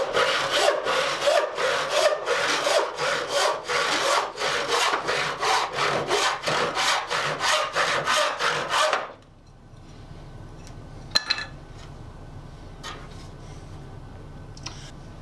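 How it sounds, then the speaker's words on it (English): A handsaw, refiled as an 8-point rip saw, rip-cuts a short run of 3/4-inch wooden board with steady, loud rhythmic rasping strokes for about nine seconds, then stops, leaving faint scattered clicks. "But cutting this 3/4 inch, little short run, I don't usually use both hands."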